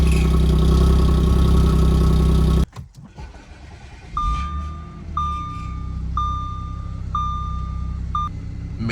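Audi S4 B8 engine idling steadily after start-up, a low continuous rumble with a chime beeping five times at regular intervals over it, close and alone without talk.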